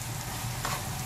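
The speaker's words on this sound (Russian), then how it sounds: "Сейчас я это все поджарю, доведу до нужной консистенции" Chopped Chinese cabbage for lazy cabbage rolls frying in a pan, a steady close sizzle with a brief stir partway through.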